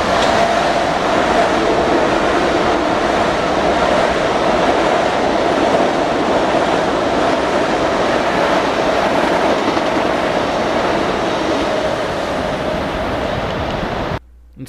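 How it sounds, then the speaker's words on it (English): A Long Island Rail Road Ronkonkoma train runs past a station without stopping, giving a loud, steady rumble with rail clatter that holds evenly for about fourteen seconds before cutting off abruptly. "this Ronkonkoma train was late. Doesn't stop at Mineola. It's passing by at around 5:06."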